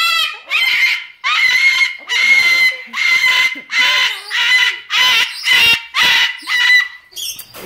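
A pet macaw lets out a run of loud, harsh screams in rapid repeated bursts, close by and filling the clip, with a person talking briefly between the calls.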